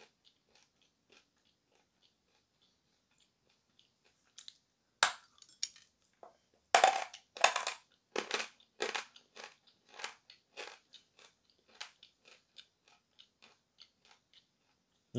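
Ural blue chalk bitten and chewed up close, a burst of sharp dry crunches followed by a steady run of smaller crackly chews that fade toward the end, after a few seconds of near silence.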